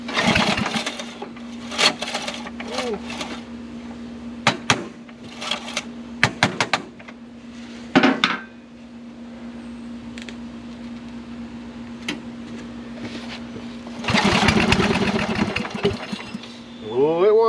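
A Toro riding lawn mower's small engine cranks and sputters in several short bursts, then catches briefly and runs rough near the end, with a steady hum underneath throughout.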